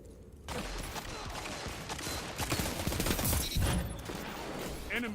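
Dense, continuous gunfire rattles through a Destiny 2 multiplayer match, with a rapid stream of shots and impacts that rises to a louder burst midway.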